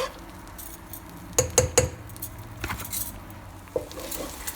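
A teaspoon clinks and scrapes against a pan while breaking up scrambled eggs for chicken fried rice, a few sharp metallic taps then quieter scraping and one last clink, close and alone.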